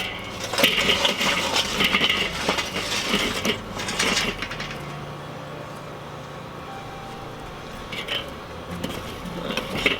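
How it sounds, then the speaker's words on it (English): Charcoal rattles and clatters as it is dumped into a Weber kettle grill, a dense rough burst of scraping and clinking up close that fades into quieter shuffling and a few later clanks. "we're going to get that charcoal dumped and get these on"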